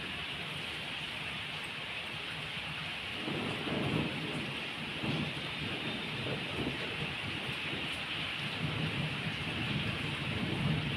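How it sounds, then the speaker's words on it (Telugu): Summer rain hisses steadily in Hyderabad while low thunder rumbles swell and roll through the downpour, building louder partway through. "వాన చూడండి ఎలా వస్తుందో, ఉరుములు చూశారు కదా ఎలా ఊరుస్తున్నాయో"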